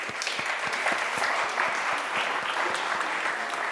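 An audience applauds a speaker on stage, a full burst of many hands clapping, sustained and fairly close, with a few sharper individual claps standing out in the mix.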